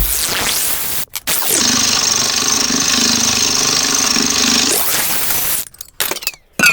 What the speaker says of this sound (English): Got my Chemo 3/8 electric ratchet here, 12mm.